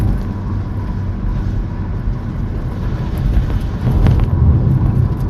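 A Mark 5 Ford Escort LX turbodiesel accelerating in third gear at just over 2,000 rpm, its engine a steady low rumble that swells a little, heard from inside the cabin along with road noise.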